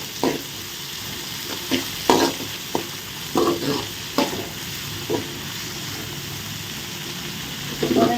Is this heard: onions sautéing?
yes